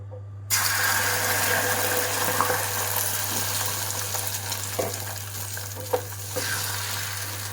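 Beaten egg omelette batter poured into hot oil in a pan, a sizzle that bursts in abruptly and holds steady, with a low hum underneath and occasional faint scrapes.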